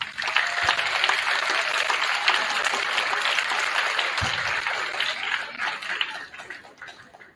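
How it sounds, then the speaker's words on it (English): A crowd applauds steadily for several seconds at a middle school winter band concert, a dense wash of clapping that fades slightly toward the end. "Give them a round of applause."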